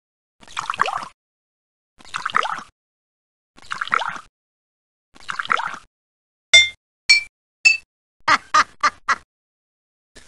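Water poured into a row of glasses in a creative-thinking puzzle video game: four separate gurgling pours, then a quick series of bright, ringing glass tones at different pitches, clean and alone.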